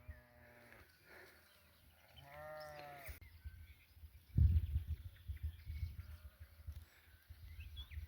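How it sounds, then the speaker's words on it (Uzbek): Sheep on a spring mountain grazing pasture bleat several times, near and moderately loud at the start, followed by quieter outdoor rumbling and wind. "Qo'y boqaydigan joy ekanda."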